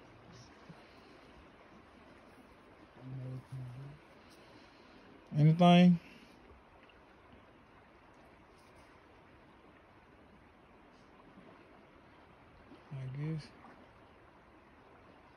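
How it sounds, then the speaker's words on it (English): A stream at Stuckey's Bridge runs with a steady, even rush of water throughout, while a few brief voices speak over it now and then. "All I hear is running water, y'all."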